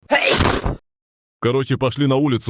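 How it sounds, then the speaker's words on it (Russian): An animated Mario lets out one loud, close, breathy sneeze, followed by a short silence and then a voice speaking. "Ой, кажется, опять чихну."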